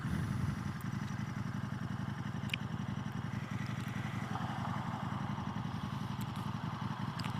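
A KTM Super Duke motorcycle in Sport Street mode runs at a steady, rumbling idle, close by and continuous, with faint clicks on top and no voices.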